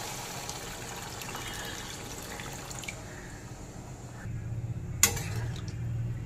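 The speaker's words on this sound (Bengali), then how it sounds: "এবার ঝোলের জন্য দিয়ে দেব জল।" Water poured into a pot of fish curry with potatoes and spices gives a steady close trickle and splash, then a fuller gush with a clank of the vessel against the pot, with no voice.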